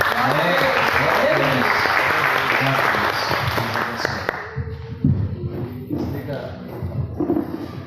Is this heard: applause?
yes